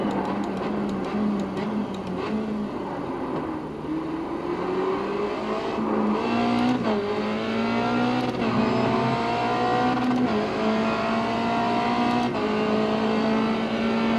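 A race car in iRacing drives on with a steady engine note that climbs through the revs, dips briefly at gear changes, then climbs again, with faint ticking in the background and no voices.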